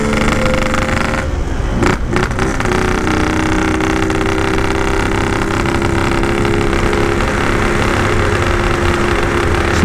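Yamaha RX King motorcycle with a cracked reed valve membrane, its two-stroke engine running loud and close, a continuous rough buzzing drone with a brief dip and rev change early on.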